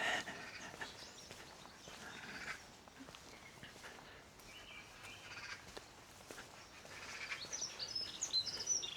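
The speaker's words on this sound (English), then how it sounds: "Nice Dunnock up there, magpies up there." Dunnock and magpies calling outdoors on a mid-January walk on downland near Ventnor, with scattered faint chirps and chatter at a distance, plus light footsteps.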